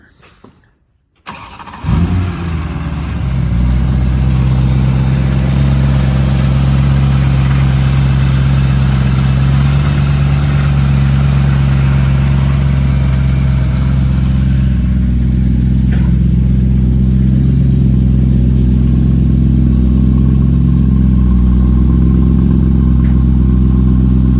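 Recorded from outside, a car engine cranks and catches after a brief pause, then holds a loud, steady idle with a deep, even rumble for the rest of the recording, no talking.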